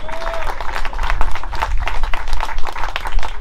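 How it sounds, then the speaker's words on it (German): A crowd claps and cheers for the winner of a Puch Maxi moped race at an outdoor event, dense loud applause with a faint whistle-like tone and a murmur of voices underneath. "Ein großer Applaus an den Gewinner,"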